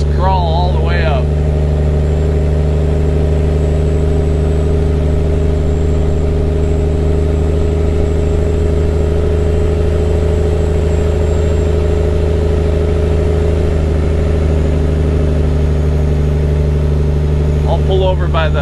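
A truck with stacks hauls a dump trailer up a hill in a crawling low gear, its engine giving a loud, steady, deep drone that holds for the whole stretch.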